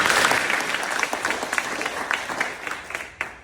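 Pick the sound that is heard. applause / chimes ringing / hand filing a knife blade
applause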